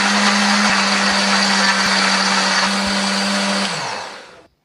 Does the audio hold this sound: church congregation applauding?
no